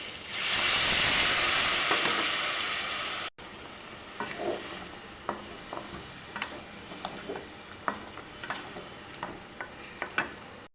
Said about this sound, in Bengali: এবার একটু ভালো করে ভেজে নেব এটা।